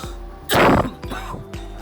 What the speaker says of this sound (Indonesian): agak sedikit batuk